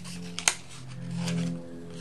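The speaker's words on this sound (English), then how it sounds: "do a rough cut first and get rid of the big areas of excess paper" Scissors make a single sharp snip through paper card stock during a rough cut, a brief close click over a low steady hum.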